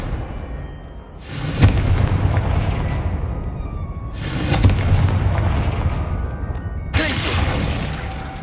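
Three booming blasts from the Confringo fire spell in the video game Hogwarts Legacy, each a sudden loud burst that rumbles and fades over a few seconds before the next one strikes.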